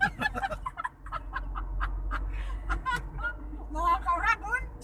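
Geese honking and cackling in a rapid, uneven series of nasal calls during a trip in the Bicol region, fairly close, with people talking over the birds.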